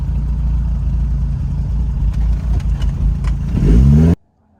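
A Lotus Elan restomod car drives on a test run, its engine note loud and steady throughout, rising in a rev near the end before cutting off abruptly into near silence.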